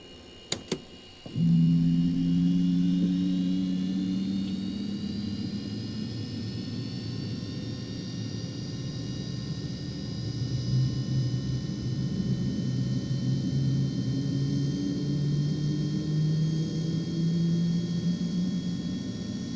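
A twin-engine airliner's number 1 engine starting up in the X-Plane 12 flight simulator: a sharp click, then a rising turbine spool and a steady whine over a deep, continuous rumble, close and alone.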